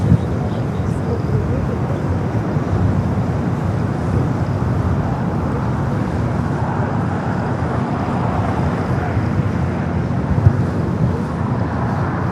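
Lufthansa Boeing 747-8 Intercontinental, Flight 457 to Frankfurt, rolling for takeoff on runway 24 left at LAX: a continuous loud, deep jet engine rumble with wind buffeting the microphone, sustained evenly throughout.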